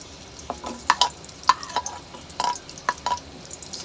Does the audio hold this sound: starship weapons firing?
no